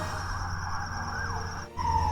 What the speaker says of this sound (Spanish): algunas patrullas de la policía se detenían ya frente a la casa de Totis